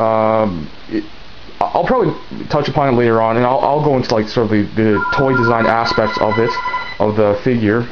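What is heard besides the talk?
telephone ringing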